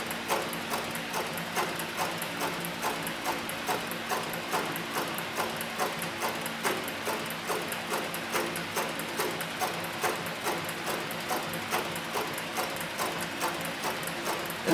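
A Cowboy CB105 heavy single-needle walking-foot machine with a size 328 needle stitches leather through a turn, a steady, fast mechanical ticking that runs evenly and continuously at moderate level, with no talk.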